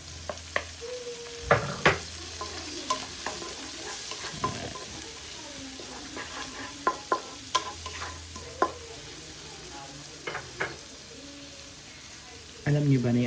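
Tomatoes sauté in a pan for ginisang ampalaya (bitter melon), a steady sizzle broken by scraping stirs and clinks of a utensil, with a louder burst of frying near the end.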